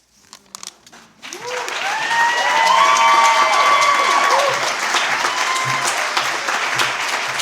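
An audience at a poetry reading breaks into sustained applause with cheering and whoops, rising after a brief quiet opening and staying loud and dense to the end.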